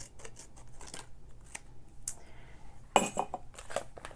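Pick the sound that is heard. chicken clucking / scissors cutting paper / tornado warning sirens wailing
scissors cutting paper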